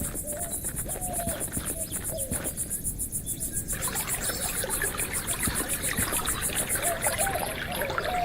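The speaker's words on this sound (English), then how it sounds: "Would you look at that spring?" Clear spring water trickles continuously in the video game Rosewater, with a rhythmic chirping of insects or crickets running steadily over the gentle flow.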